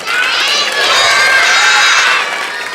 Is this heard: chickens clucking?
no